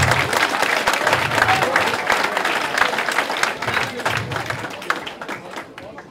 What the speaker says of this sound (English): can I ask you to give both boxers a big round of applause